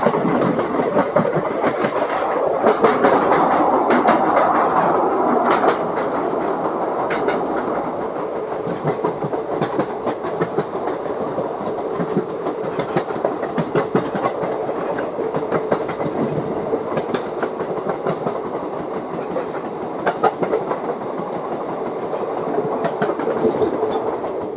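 A passenger train on the Mathura–Delhi line rolls past nearby with a loud, steady rumble and continuous clickety-clack of wheels over rail joints for nearly half a minute.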